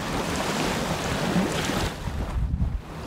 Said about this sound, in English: It's windy as fucking ball sacks today.